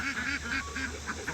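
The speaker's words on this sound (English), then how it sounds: "Come on out, birds." Farm geese honk in a steady, repeated rhythm as they come out of their pen on a sunny day, near and moderately loud, with no talk over them.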